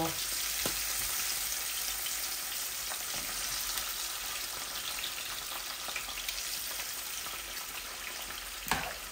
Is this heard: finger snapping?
no